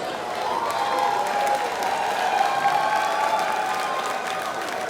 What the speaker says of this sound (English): a big round of applause for these two fighters